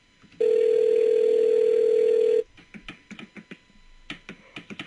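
A telephone call being placed: a loud, steady tone holds for about two seconds, then a quick run of soft clicks and taps follows, close and with no voices.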